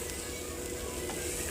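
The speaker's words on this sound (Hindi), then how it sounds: "और भिंडी को हमें 5 से 10 मिनट फ्राई करना है।" Sliced okra (bhindi) fries in an open pan with a dense, continuous sizzle, close and steady throughout with no pauses.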